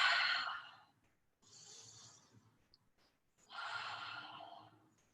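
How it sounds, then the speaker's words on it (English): Deep breaths blown out of the mouth during a Pilates mat class, close and soft. Three breathy exhales are heard, the first and last longest, with quiet pauses between them. "Nice deep exhale out of the mouth."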